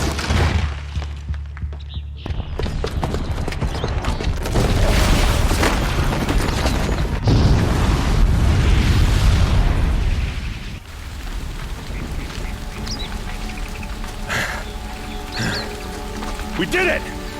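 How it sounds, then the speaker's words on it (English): A booby-trapped bomb goes off in Horizon Zero Dawn, a loud sustained explosive roar with rumbling debris lasting several seconds, then fading into lighter crackling and scattered game sounds. "the booby trap on the bomb downstairs is gonna get set off"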